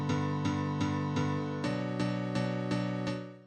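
A sound run through Ableton's Echo effect set to 1 ms delay, fully wet, with its default low-pass filter dulling the tone: a sustained pitched note re-struck about nine times in a steady rhythm, muffled and resonant, alone.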